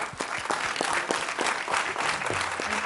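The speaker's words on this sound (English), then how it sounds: "let's give all of the candidates a round of applause" An audience at a city candidate forum gives the candidates a round of applause, a dense, steady clapping of many hands that continues throughout, with a few distinct sharp claps near the front.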